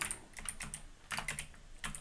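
A computer keyboard clatters in quick bursts of sharp, close typing clicks, grouped in short runs with brief pauses between them.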